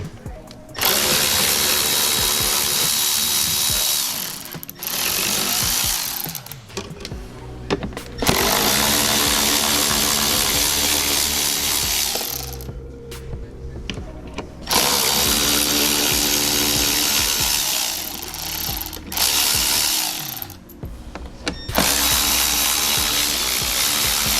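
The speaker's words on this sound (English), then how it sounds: "then we'll start removing the 7mm bolts right here" A power tool removes 7mm bolts from the tail lights of a 2014-2019 Corvette C7, whirring loudly in several long bursts separated by short pauses, close by and alone.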